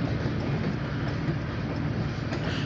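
An OC&T passenger train heading back to the Perry Street Station in Titusville rolls past with a steady low rumble and rattle of cars on the rails, continuous and fairly close, with no talk.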